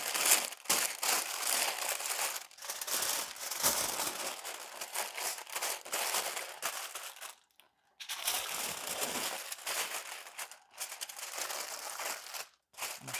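Smoked beef brisket being wrapped in paper: loud, continuous crinkling and crushing of the sheet, close up, in uneven bursts with a couple of brief pauses, no voices.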